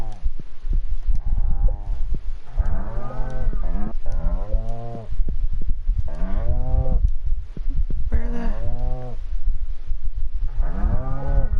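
Cows moo in the farming game Stardew Valley, a steady run of loud, drawn-out bovine calls, one after another for the whole stretch with no talking.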